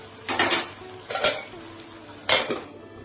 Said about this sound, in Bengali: আমি এখন আবার ঢাকনাটা তুলে নিচ্ছি, ঢাকনা তুলে নিলাম।